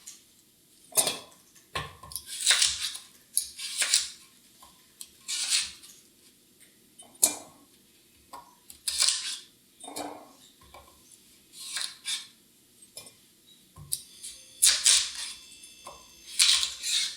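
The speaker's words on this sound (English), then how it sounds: "I usually cut the beets into about 8 pieces" A knife chops beets into pieces on a cutting board, giving a series of sharp, irregular clacks and taps spaced across the stretch, close and fairly crisp with quiet gaps between.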